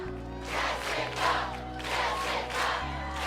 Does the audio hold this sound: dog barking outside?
no